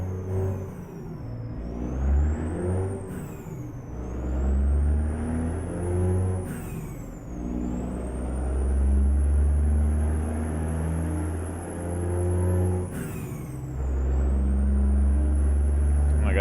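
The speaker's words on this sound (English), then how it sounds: "I gotta say, this engine sounds amazing." A deep truck engine in American Truck Simulator drones and revs steadily, rising and falling in pitch as gears shift, with a high synthetic whine running over it throughout.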